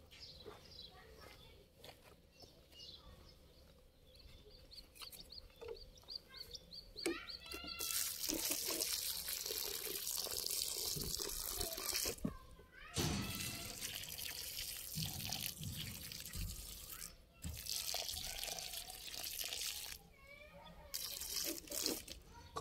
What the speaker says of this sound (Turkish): Şimdi bunlara can suyu vereceğiz.